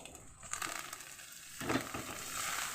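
Leafy greens dropped into a pan of frying green chilies and ginger, a faint sizzle that flares into a louder crackling hiss as the wet leaves hit the oil, then settles into steady frying.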